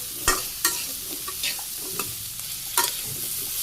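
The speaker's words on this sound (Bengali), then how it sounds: "সবজি কষানো হয়ে গেছে" Vegetables, including round taro, sautéing with turmeric, chili and salt in a pan: a steady sizzle broken by several distinct scraping knocks of a spatula stirring at irregular intervals.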